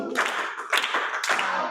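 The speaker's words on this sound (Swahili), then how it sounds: "tumpigie makofi Diamond" Short bursts of audience clapping for Diamond at a Swahili teaching session, about three quick rounds of close, sharp hand claps in under two seconds, with no talking.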